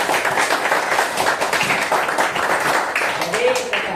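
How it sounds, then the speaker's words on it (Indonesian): A class of fifth-grade primary school children claps during a counseling microteaching lesson, with quick rapid claps mixed with talking voices and chatter over the top. "Tepuk tangan dulu."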